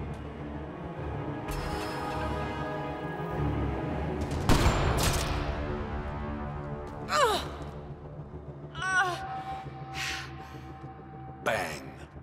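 A sniper rifle shot in the video game Mass Effect: Andromeda rings out as one sharp, loud crack partway through, set among game music, breathy sighs and gasps, and further brief noisy bursts.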